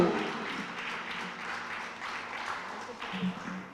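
Audience applauding at a Cross of Merit nomination ceremony held in a hotel, a steady dense wash of clapping, moderately loud and even, with a little voice mixed in.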